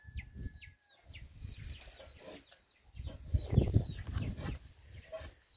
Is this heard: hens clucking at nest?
yes